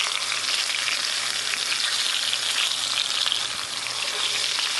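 Roadkill meat fries in grease on a hot plate turned to maximum outdoors, giving a loud, dense, continuous sizzle and crackle close up, with no talking.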